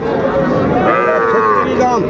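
At the busy Aftabganj cattle hat, a small bull calf gives a long, loud, nearby moo that rises and bends in pitch, with a second shorter call at the end, over steady crowd noise and people talking.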